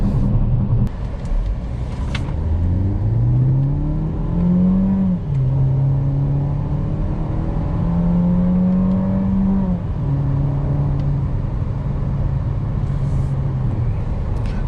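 A 2021 Opel Grandland X with its 1.6-liter turbocharged engine accelerates from inside the cabin, the engine note climbing through gears with a shift around midway, over steady road rumble.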